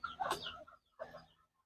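Bantam chickens, a local jungle-fowl type, cluck in two short close bursts with a brief pause between, quiet and clear.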